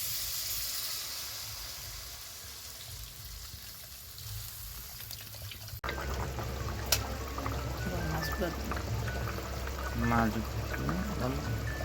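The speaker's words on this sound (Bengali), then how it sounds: "এখন আমি পরিমাণ মতো জল" Water pours into a pan of sautéed masala for a fish curry, giving a steady rushing hiss. A fuller, busier stretch with voices follows partway through.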